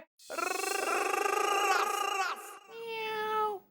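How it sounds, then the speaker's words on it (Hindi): A cat lets out a long, loud, drawn-out meow, then after a short pause a second, shorter meow, close and clear. "बिल्ली आ गई है, भगा बे।"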